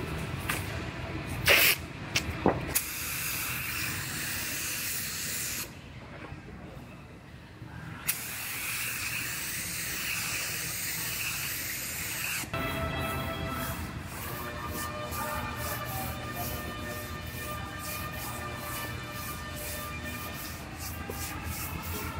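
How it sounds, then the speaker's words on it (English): Spray gun hissing as primer goes onto a few spots on a car hood in a body shop, steady continuous spray in bursts with breaks between passes, fairly close, no talk over it. "I'm going to go ahead and prime up a couple spots on this hood."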